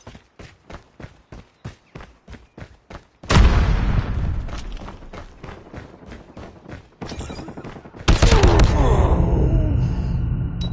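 In Call of Duty gameplay, a grenade goes off with a sudden loud boom that follows a run of rhythmic footstep-like thuds. A long rumbling tail and a second heavy blast come after it.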